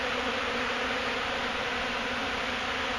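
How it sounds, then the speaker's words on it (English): A dense swarm of honey bees drones at an open hive during a removal, a loud, continuous, even buzz filling the air with no voices over it. "that's a lot of bees"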